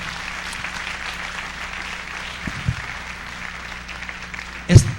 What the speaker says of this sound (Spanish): Y dale un fuerte aplauso al Señor.